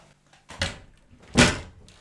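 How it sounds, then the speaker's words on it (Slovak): A door is pushed shut in a podcast recording room, making two soft, close thuds about a second apart with near silence around them. "zavri dvere"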